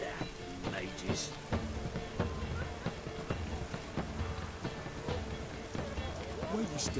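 Rain falling in the video game The Witcher 3: Wild Hunt, a steady hiss of drops with scattered sharp taps and clicks from game effects throughout, fairly close and continuous.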